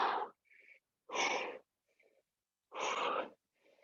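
Sharp, forceful breaths exhaled in time with reps during a live boot camp exercise class: three loud bursts evenly spaced, with quieter breathing between them.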